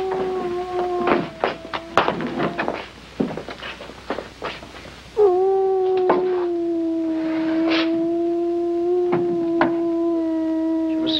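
A dog lets out a long, steady howl that holds one pitch for several seconds, loud and close, following a stretch of shuffling and scattered knocks.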